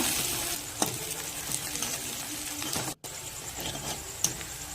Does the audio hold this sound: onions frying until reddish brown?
yes